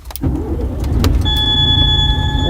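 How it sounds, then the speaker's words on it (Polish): A truck engine cranks and catches, rising into a steady low idle rumble with a faint electronic whine and warning tones inside the cab of a Polish long-haul lorry, close and fairly loud. "Trzeba silnik odpalić."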